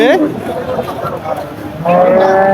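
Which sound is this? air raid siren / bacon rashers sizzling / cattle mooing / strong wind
cattle mooing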